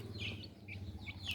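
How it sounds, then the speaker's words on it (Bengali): Native desi chicken chicks at a house give faint, high chirps and peeps in short scattered bursts over a low, steady background murmur. "দেখেন আমার বাড়ির দেশি মুরগির বাচ্চাগুলো কত সুন্দর"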